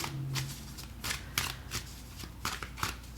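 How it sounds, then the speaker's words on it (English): Tarot cards being shuffled during a reading, a series of quick riffling bursts and soft slaps close by, no talk. "Let's pull some more cards."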